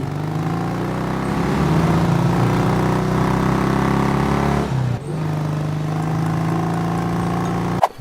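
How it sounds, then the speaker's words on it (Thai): A motorcycle engine runs at a steady idle, a continuous low droning hum with a brief dip midway and a click near the end. "เสียงรถมอเตอร์ไซค์"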